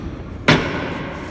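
Gas-tight door on an ATLAS bomb shelter swinging shut with a single close, heavy thud against a steady background hum, no talk.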